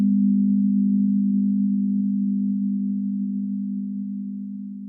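A steady composite tone of a 200 Hz sine wave with an added 250 Hz component hums as one smooth, pure, unbroken drone, fading slowly over five seconds, with nothing else audible.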